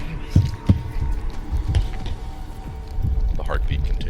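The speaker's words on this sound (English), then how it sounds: "The heartbeat continues." A slow, deep heartbeat sound effect thuds low and soft at a steady pace beneath a dark, humming drone, with a narrator's voice in places.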